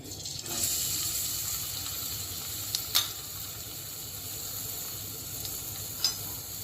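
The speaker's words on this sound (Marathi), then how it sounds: "तेल टाकलंय. आता आपल्याला तोंडली टाकायची चिरलेली." Chopped ivy gourd hits hot oil in a pan, giving a steady, fairly quiet sizzle with a few sharp clicks and pops from the pan.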